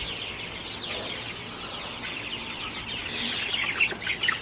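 Chickens cluck and chirp in a poultry shed in the morning, a busy layered chatter of many birds at moderate distance that grows louder toward the end.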